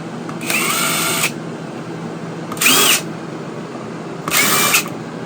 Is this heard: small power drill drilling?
yes